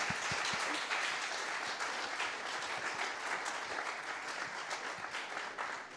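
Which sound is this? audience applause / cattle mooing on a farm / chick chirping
audience applause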